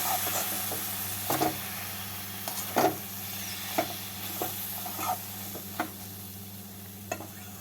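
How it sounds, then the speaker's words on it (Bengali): A spoon scrapes and taps repeatedly as cabbage is stirred with raw mustard oil in a pan for badhakopi posto, irregular clacks over a soft continuous sizzle and a low steady background hum. "তেলটাকে এবারে কপির সাথে মিশিয়ে নেব"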